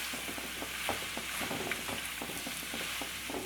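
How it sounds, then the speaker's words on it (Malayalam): Onions with salt sautéing in a pan for a Kerala-style egg roast, a continuous close sizzle broken by rapid rhythmic scraping and stirring strokes, no talking. "എല്ലാം കൂടെ നമുക്കൊന്ന് വഴറ്റിയെടുക്കാം"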